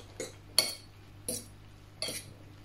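Pasta sauce with lardons is mixed with metal utensils, four distinct clinks and scrapes against a dish spaced evenly apart, close and crisp with no talk.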